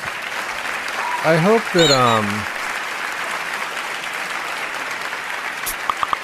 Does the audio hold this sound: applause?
yes